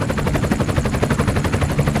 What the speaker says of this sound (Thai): ได้มีเฮลิคอปเตอร์ ของพวก เมลอน ที่เป็นคนทรยศ ไปอยู่กับทอมกิน ได้ขับมาถึงท้องฟ้า